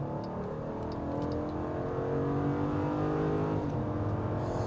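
A 2022 Jeep Grand Wagoneer with a 6.4 HEMI engine revs hard and climbs in pitch as it accelerates at full throttle, loud and close, with a steady roaring drone throughout.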